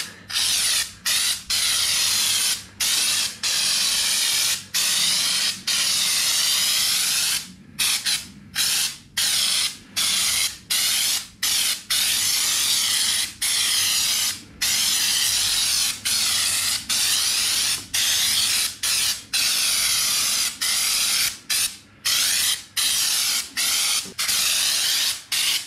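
Continuous loud hissing spray of thick Plasti Dip rubber coating onto a Geo Tracker, broken by frequent short pauses, a steady pressurized spurt close by, going on and off rhythmically for a long stretch.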